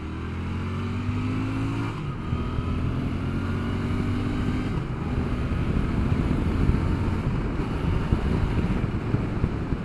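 A 2021 Royal Enfield Interceptor motorcycle engine revs up in second gear to about 5,500 rpm, its pitch rising over steady, heavy wind rumble.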